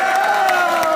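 A protest crowd in Italy cheering and applauding, loud and close, with dense clapping and shouting voices merged into one continuous roar.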